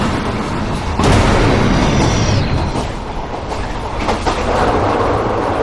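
A freight train with a detached compartment runs with a loud, close, continuous rumble and clatter, a thud near the start and a brief metallic squeal soon after.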